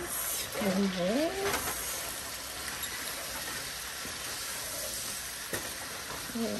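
Onion, tomato and green pepper sizzling in a pan, a steady close frying hiss with a voice briefly speaking over it at the start.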